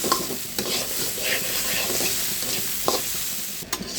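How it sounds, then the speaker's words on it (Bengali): Dal with turmeric fries in a pan with a steady broadband sizzle, while a spoon gives a few light stirring clicks and scrapes. "এখন একটু ভেজে ছেড়ে নিচ্ছি"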